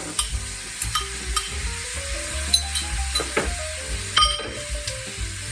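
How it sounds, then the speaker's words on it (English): Shrimp or other meat is dropped into a hot pan alongside sausage and sizzles steadily while being stirred, with repeated scraping and light clinks of a utensil against the pan up close. "And then we can put in our shrimp or our other meat"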